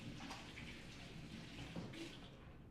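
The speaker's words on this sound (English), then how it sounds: "I'm just going to wash my hands." Hands are washed under a running tap in a home kitchen during banana cupcake baking, a faint, steady hiss of flowing water with small splashes, heard alone and distant.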